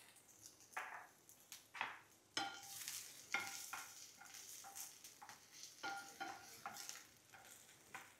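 Mustard seeds, finely chopped garlic and ginger sizzle and fry in a pan for a Maharashtrian sprouted peanut usal, with steady crackling under occasional stirring scrapes, close and fairly quiet.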